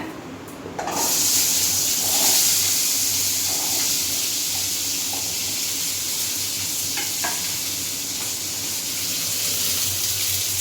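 Steady broadband sizzle of onions frying in hot oil, continuous and close, with a few faint clinks near the start.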